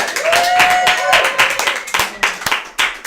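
Audience clapping at a storytelling concert in a house setting, irregular claps under a speaking voice that carries through, thinning toward the end.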